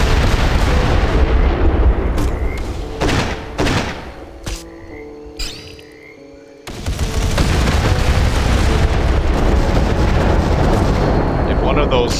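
Rocket explosions and heavy gunfire in the Tacticool video game, loud dense bursts and booms that thin out to a few sharp blasts midway before the barrage returns at full intensity, with voices talking over it.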